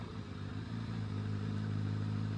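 A Kawasaki ZRX1100 motorcycle runs at a steady low engine drone with a slight rise in pitch as it rides along, heard from the rider's position with wind noise and no talk.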